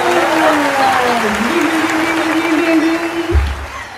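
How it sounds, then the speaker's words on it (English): A round of applause greets an interview guest, steady clapping throughout with a tonal hum or voice-like line running beneath it and a brief thump near the end. "a round of applause for the one and only Weniki."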